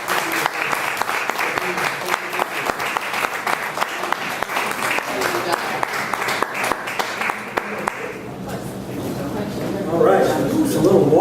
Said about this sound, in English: we want to thank her for a round of applause